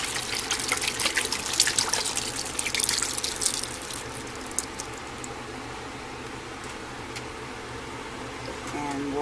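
Water runs and splashes into a 6-quart soup pot, louder at first then settling into a softer steady stream.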